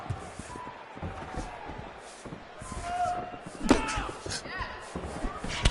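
Strikes landing in a UFC 4 fight video game: several sharp thumping and slapping impacts at irregular intervals, one especially loud crack near the middle, under steady commentary speech.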